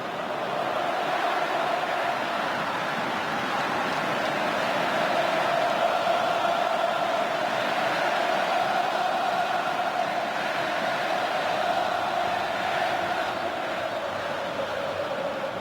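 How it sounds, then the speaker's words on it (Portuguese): Flamengo supporters fill the Maracanã stadium with loud, sustained singing, a dense massed chant that swells gently and holds steady throughout without pause. "Vamos ouvir o Maracanã, canta alta a torcida do Flamengo."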